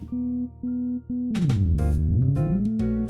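A sawtooth synth note in Ableton, dark and muffled by a low-pass filter, repeats a few times, then opens into a bright, buzzy sweep that slides down and back up.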